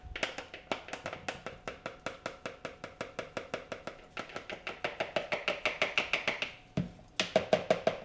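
Flour being sifted through a hand sifter for brown butter chocolate chip cookies: a close, steady run of quick rhythmic taps and clicks with a short pause near the end, and no voices.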